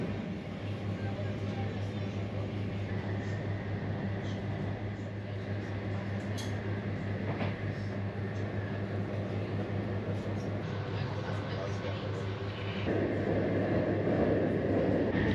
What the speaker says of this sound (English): our train is not stopping at all the intermediate stations on the line